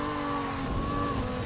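A car engine in an arcade racing video game drones steadily, its tone holding with slight pitch shifts and no talk over it.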